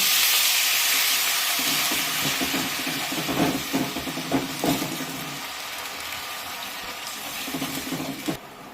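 Water poured into a pan of well-fried spice masala for a Bengali stuffed bitter gourd curry, giving a steady loud hiss and sizzle with a few clinks and stirring knocks, no talk.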